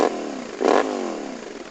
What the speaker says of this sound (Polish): Motocykl ładnie chodzi.